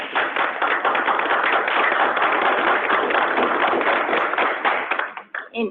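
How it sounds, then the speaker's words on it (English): Steady, dense applause from a committee meeting audience, close and fairly loud, continuing for about five seconds before tapering off with a few scattered claps. "So that deserves a round of applause."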